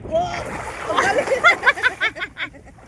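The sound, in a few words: splash of a backflip into water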